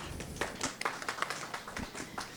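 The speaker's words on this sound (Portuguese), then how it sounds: "Essas palmas foram para ela ou para mim?" Audience clapping at a cultural heritage seminar, a scattered burst of hand claps of moderate loudness, fairly close, with no talking over it.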